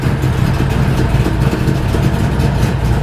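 A 1962 Plymouth Savoy's 440 V8 engine with rear exit exhaust idles steadily and close by, a low continuous rumble with no talking.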